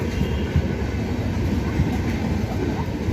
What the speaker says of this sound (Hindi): हमारी ट्रेन आ चुकी है नागलोई रेलवे स्टेशन पे